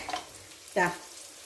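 Fish fries in a pan, a quiet background crackle broken by one short, sharper sizzle burst near the end of the moment.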